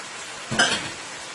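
Broccoli dropped into a hot pan of beef with oyster sauce, dark soy sauce and beef bouillon, giving a sudden loud sizzling burst that settles into steady frying hiss.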